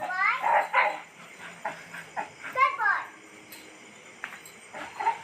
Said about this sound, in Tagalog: Kasi tinatahulan ng aso.